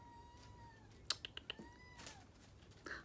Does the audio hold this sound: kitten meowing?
yes